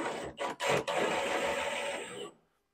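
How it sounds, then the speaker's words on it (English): Impact wrench snugging cab body mount bolts on a 1999-2007 Ford Super Duty, a few short bursts followed by a sustained buzzing run of about one and a half seconds, close and fairly loud, then stopping. "So we're just going to get it snug with the impact."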